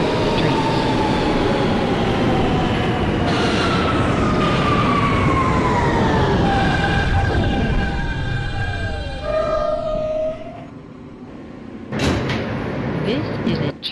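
An R160 subway car on a Church Avenue bound G train runs loud in the OpenBVE game, with a steady rumble and rising and falling motor whine that slows toward a stop, then brake hiss and door sounds near the end.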